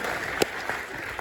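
Audience applause after a post-performance Q&A of 'Krapp's Last Tape' with Stephen Rea at the Barbican, a brief, steady wash of clapping from a seated crowd with a few sharper claps standing out.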